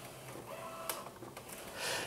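An Epson P700/900 inkjet printer printing on baryta paper, a low steady mechanical whir with a few sharp clicks and a rising swish near the end, heard alone without talk.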